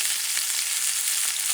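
Butter with rosemary melting in a hot steak pan, giving a dense, steady hiss of sizzling close up with no voices.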